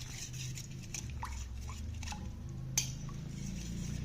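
Ginger and garlic being stirred in a cooking pot, with soft scraping and light metallic clinks of a utensil against the pot, one sharper clink near the end, over a low hiss of frying. No one talks.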